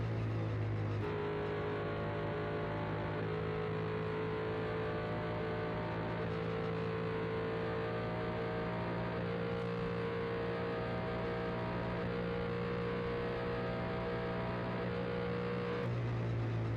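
A race car engine from the NASCAR 2001 video game holds a sustained high-revving drone at full throttle, loud and steady throughout, with only slight shifts in pitch.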